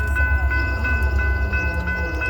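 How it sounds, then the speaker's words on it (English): Kiamichi Railroad freight train hauled by GP40-3 and SD40-T locomotives near Idabel, Oklahoma at night, a loud continuous rumble with regular wheel beats and a steady tonal hum, close by. "we got a train"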